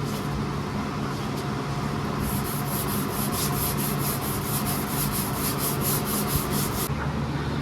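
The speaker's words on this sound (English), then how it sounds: "Let's see if you guys can spot this when I'm going to start sanding it." Body filler being sanded on a 1979 Volare wagon, a continuous close, steady abrasive rubbing with a rapid pulsing scrape rising in the middle, no voices.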